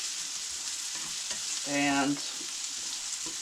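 Apple slices fry and brown in a pan with a steady soft sizzle throughout, while a voice briefly speaks partway through.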